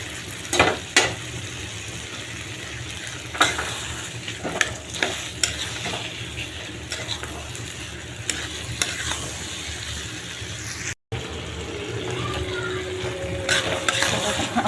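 Masala spices frying in a pan sizzle continuously, with frequent scraping and stirring clicks from a spoon against the metal and a brief break near the end.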